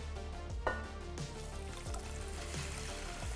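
Water poured from a cup into a pot of measured white rice, a steady close trickle with a few light clinks of the container.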